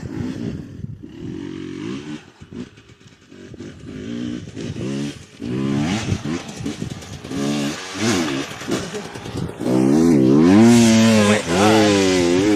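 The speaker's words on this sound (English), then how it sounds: "Somebody's going on their dirt bikes right now." Dirt bikes ride across sand dunes, their engines buzzing and revving in rising and falling waves that grow louder and closer toward the end, with no talk over them.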